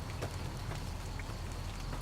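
Continuous patter of rain falling on surfaces in Zion in the video game Fallout: New Vegas (Honest Hearts), a steady even hiss with scattered drop taps, no voices.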